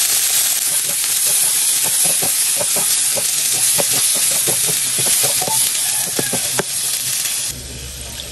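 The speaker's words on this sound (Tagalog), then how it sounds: "Magigisa na po ako ng luya, sibuyas, at bawang." Ginger, onion, garlic and tomato sauté in a hot pan, giving a loud, steady sizzle and hiss up close. Repeated clinks and scrapes of stirring run through it, then the frying softens abruptly near the end.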